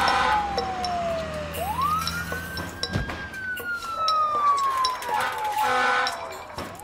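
Emergency vehicle sirens from the SimCity video game wail in long rising and falling sweeps, loud and continuous against a busy city background with a voice talking over them.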